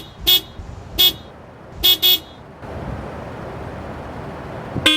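A Toyota RAV4 car horn sounds in short blasts, two single toots, then a quick double toot, then wind and road noise, ending with one more brief honk.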